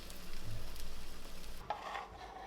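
Faint sizzling from a cheesy mushroom and prosciutto omelette frying in a pan, a soft steady crackle that quiets partway through, followed by a few light clinks, with no talking.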